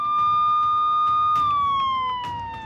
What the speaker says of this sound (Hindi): पुलिस के सायरन की आवाज सुनाई पड़ती है